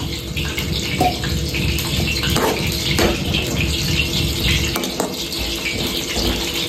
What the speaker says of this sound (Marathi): पाणी टाकायचं, तुम्हाला ग्रेव्ही पाहिजे तर ग्रेव्ही बनवा